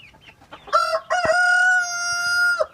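A rooster crows at close range in a backyard poultry coop, giving one long, loud cock-a-doodle-doo that holds steady for nearly two seconds, with softer chicken clucks before it.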